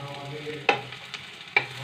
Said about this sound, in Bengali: ফ্লেমে আমি এটাকে ভেজে নেব পেঁয়াজটাকে